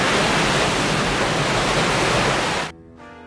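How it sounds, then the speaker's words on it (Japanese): A dense, roaring wash of rushing water for a tsunami sound effect in a Japanese tokusatsu show, loud and steady for nearly three seconds before cutting off abruptly into a brief quieter tone. "津波だ、津波が来るぞ。"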